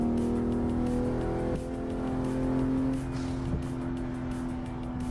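A car engine from the PC racing game Assetto Corsa holds a steady, moderately loud hum with a sustained tonal drone that shifts slightly in pitch, heard alone without talk.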